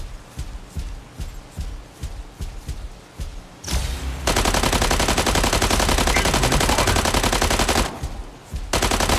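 Mech Arena video game gunfire, first as separate rhythmic shots, then a dense sustained machine-gun barrage that runs loud and continuous for several seconds before breaking off briefly.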